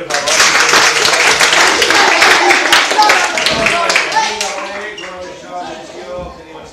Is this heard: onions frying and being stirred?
no